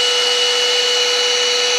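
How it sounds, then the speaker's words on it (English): A vacuum cleaner running at high speed gives a loud, steady motor whine that holds unchanged from start to finish, with no talking. "This vacuum cleaner goes really fast"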